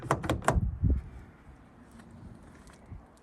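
A 2022 Mazda MX-5 Miata's door locks with a quick cluster of sharp mechanical clunks up close, then a fading rattle before quiet, no speech.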